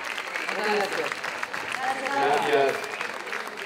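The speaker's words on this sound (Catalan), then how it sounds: "Un fort aplaudiment, sisplau." Applause from a festival dinner crowd swells and holds steady, with a brief spoken word of thanks near the start.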